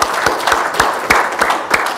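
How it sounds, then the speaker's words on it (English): Scattered clapping from a small audience at a marketing talk for window cleaning businesses, a handful of distinct sharp claps spaced irregularly over a couple of seconds, fairly close and loud. "I want to give a round of applause for him for putting this together"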